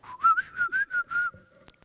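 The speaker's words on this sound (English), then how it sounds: "it is a normal glottal pitch plus a whistle" A voice whistles over a normal glottal pitch, about six rising whistled pulses in a row, then a few faint clicks.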